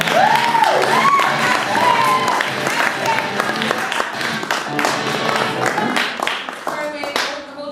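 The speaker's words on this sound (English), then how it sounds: "hold your applause because we're going to do that again" A live comedy show audience breaks into loud, sustained applause with cheering and scattered whoops, close and dense, tapering slightly toward the end.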